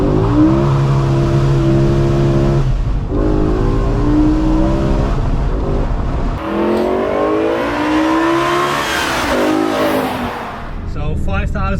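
BMW E60 M5 engine with a carbon plenum revving hard under acceleration, rising harmonic roar that climbs in pitch, dips briefly at a shift and climbs again, loud and close from inside the car.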